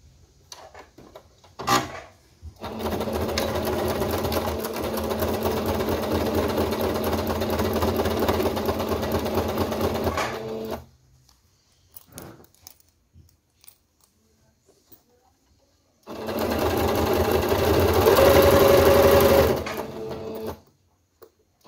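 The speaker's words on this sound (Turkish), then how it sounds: "Buradan bir makine çekeceğiz şimdi." A sewing machine stitches a summer crossbody bag trimmed with hand-knit lace, running in two sustained bursts with a brief pause and small clicks between, close and clear without talk.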